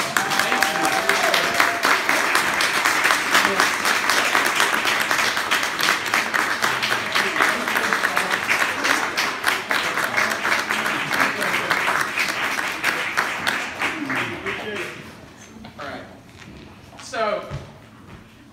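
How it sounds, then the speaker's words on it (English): Sustained audience applause and clapping fill a room at a neighborhood crime and safety association meeting, loud and dense for about fourteen seconds before thinning out into scattered claps and murmuring voices. "we would love to give you a round of applause"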